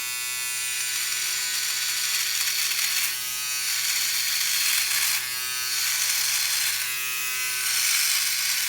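A Philips Norelco OneBlade electric shaver buzzes steadily and close up, its hum dipping and swelling slightly as it moves across the skin, with no speech.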